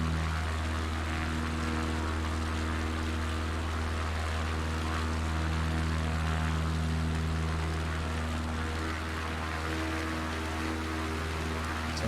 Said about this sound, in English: It's a nice and small aircraft, this one.